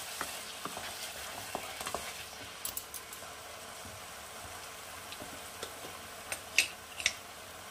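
Spice masala with chopped tomatoes fries and is stirred in a pan for dhaba-style aloo gobi, a soft steady sizzle with scattered spoon taps and scrapes growing sharper toward the end, no talking.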